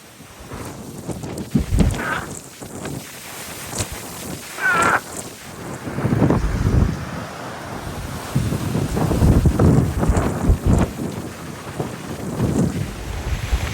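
Strong wind during a wildfire blasts and buffets a phone microphone on a residential street, loud gusty roaring that surges and drops in waves throughout.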